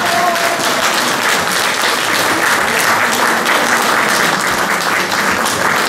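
Sustained, steady audience applause greets an award announcement at an art competition prize ceremony, dense and even throughout.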